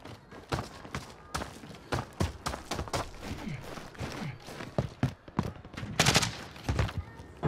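Gunfire in an online multiplayer shooter, rapid irregular bursts of shots and sharp cracks, moderately quiet, with a dense flurry of fire near the end.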